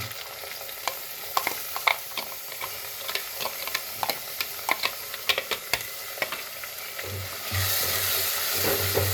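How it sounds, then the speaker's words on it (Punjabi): Chopped onions fry in a hot pan on a high gas flame, a continuous crackling sizzle punctuated by sharp scraping stir strokes, with the sizzle swelling louder and fuller near the end. "ਹੁਣ ਆਪਾਂ ਗੈਸ ਨੂੰ ਹਾਈ ਕਰਕੇ ਤੇ ਇਹਨੂੰ ਬਰਾਊਨ ਹੋਣ ਤੱਕ ਪਕਾਵਾਂਗੇ ਪਿਆਜ਼ ਨੂੰ"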